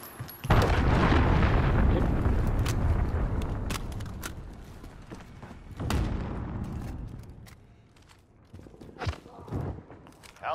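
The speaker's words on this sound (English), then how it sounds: "Enemy cruise missile." A cruise missile explodes in a video game, a loud booming blast with a long rumbling tail that fades, then a second fainter thump and scattered smaller impacts.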